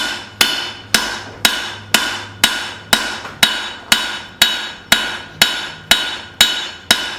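A hammer strikes a hot steel cleaver in a steady rhythm, about thirteen sharp ringing blows in quick succession, forging a bevel into quarter-inch-thick stock, each hit loud and close.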